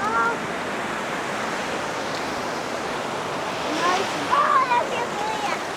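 Steady, broad wash of Gulf of Mexico surf rolling onto a Florida beach, continuous and fairly loud, with faint voices briefly audible toward the end.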